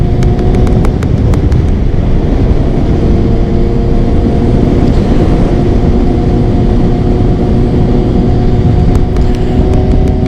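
A 2000 Kawasaki ZX6 motorcycle rides at speed, its engine a loud steady drone buried in heavy wind rush, with faint clicking early and late.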